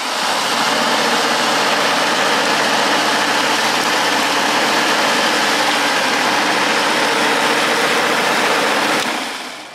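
A Greenworks or Rock&Rocker lawn dethatcher scarifier runs with a steady, loud motor drone that holds evenly for about nine seconds and then cuts off near the end.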